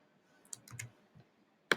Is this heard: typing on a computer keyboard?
yes